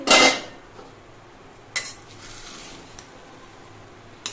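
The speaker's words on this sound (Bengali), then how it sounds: "কিছুক্ষণ পর আমি ঢাকনাটা খুলে নিচ্ছি" Metal lid lifted off a pot of nearly cooked rice for Basanti pulao, a loud clattering clink near the start, then a couple of softer metallic knocks and a faint clink at the end over quiet kitchen background.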